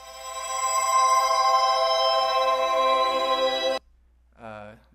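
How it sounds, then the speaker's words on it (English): A bowed glockenspiel sample plays with reverse reverb, a bright metallic tone swelling and ringing for several seconds before cutting off abruptly, followed by a brief spoken voice. "there's the reverse reverb."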